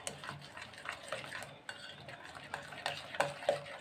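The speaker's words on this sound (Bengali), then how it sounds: "এইভাবে মেশাতে থাকবো।" Mango pulp is stirred with condensed milk in a bowl, making soft, quiet scraping and light clinking strokes in an irregular rhythm.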